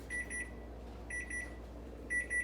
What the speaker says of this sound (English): Oh, that's our 5-minute timer.